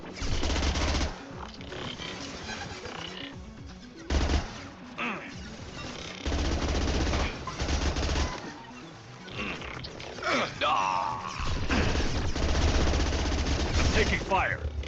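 Gunfire in the sci-fi shooter Mass Effect 2, with bursts of automatic weapon fire and heavy impacts in repeated volleys amid battle noise and growling creature sounds, loud and close.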